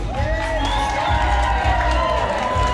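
An audience at a live Christmas holiday show in the park at Six Flags Frontier City cheers and applauds loudly and steadily, with whoops and children's shouts rising over a dense crowd roar.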